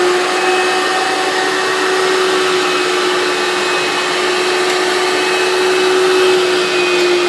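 A Bissell rug and carpet cleaner runs steadily with a loud, constant motor whine and airy suction roar, unbroken and close throughout.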